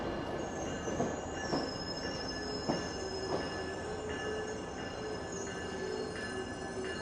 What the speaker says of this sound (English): That first Via train was quite a bit longer than they usually are